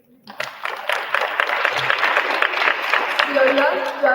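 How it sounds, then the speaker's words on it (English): Students at a school Project Soapbox finals receive a round of applause: dense clapping from a crowd builds quickly and holds steady at full volume, with scattered voices and cheers mixed in. "Let's give them a round of applause."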